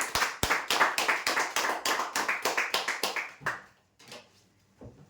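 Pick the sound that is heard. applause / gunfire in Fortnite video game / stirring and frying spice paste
applause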